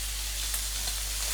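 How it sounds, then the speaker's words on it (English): Steaks sizzle steadily in a frying pan, a close, even hiss of hot fat with faint crackles and no voices. "Very sizzling."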